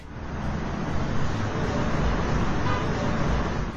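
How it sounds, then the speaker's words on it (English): Busy traffic streams over an overpass as cars and bikes pass in a continuous broadband roar, moderately loud and steady, with no distinct single vehicle standing out. "Cars and bikes zip through the busy overpass"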